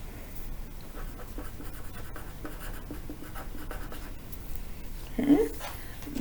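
Handwriting with a pen on paper, a continuous soft scratching close by, with a voice talking over it.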